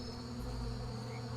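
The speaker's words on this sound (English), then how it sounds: "Oh, bees. Bees!" Insect buzzing from bees in the online fantasy game Adrullan Online, a steady, continuous drone holding level throughout with no voices over it.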